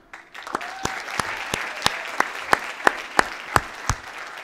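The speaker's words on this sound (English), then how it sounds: "I would like to give a round of applause to the teachers at this point, please." An audience at a graduation ceremony applauds the teachers, with a dense, steady round of clapping from the crowd and sharp individual claps standing out at a regular beat, close and loud.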